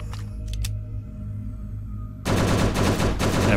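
Rapid automatic gunfire from the zombie survival game Last Hope Bunker bursts in loud and continuous after a quieter stretch with a few faint clicks and a low hum.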